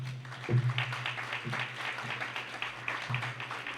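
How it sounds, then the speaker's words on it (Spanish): A church congregation claps at a Spanish-language service, a moderate scattered patter of hands over a low sustained tone that swells and restarts in a few waves. "¿Cuántos pueden darle un aplauso al Señor?"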